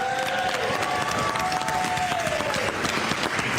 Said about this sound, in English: join me in giving a round of applause for all of our speakers